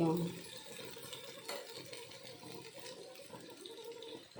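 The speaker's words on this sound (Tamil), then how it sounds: "வேகிறதுக்கு கொஞ்சம் தண்ணி ஊற்றிக்கலாம்." Water poured into a pot of cooking sambar, a soft trickling splash at first that fades to a faint watery background with light kitchen noise.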